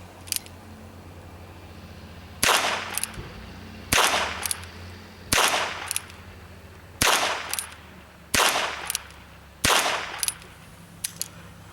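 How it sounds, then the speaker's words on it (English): Rapid-fire gunshots from a Ruger Wrangler revolver, seven loud sharp reports spaced roughly one to one and a half seconds apart, each followed by a short ringing decay over a steady low hum. "Go ahead and we'll rapid fire this and see how quickly I can get these shots on target."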